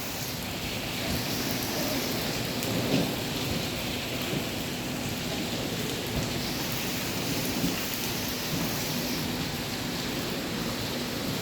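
Steady heavy rain pours down in Quetta, with low thunder rumbling now and then beneath the continuous hiss, heard from under a hotel roof overhang and with no voices.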